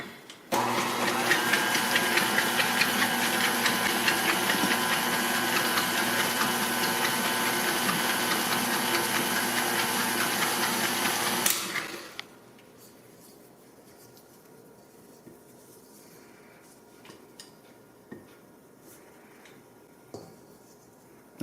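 An electric mixer whirs steadily through white chocolate cream cheese frosting for about eleven seconds, a loud, even motor drone, then stops abruptly, leaving a quiet room with a few faint clicks and knocks.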